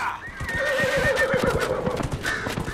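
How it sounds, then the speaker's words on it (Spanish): A horse in the game Dragon Age Inquisition gives a long, loud whinny that rises and trails off, over steady clip-clop hoofbeats, with another short neigh near the end. "Voy a enseñaros un poquito el caballo, que hace mucho que no lo saco."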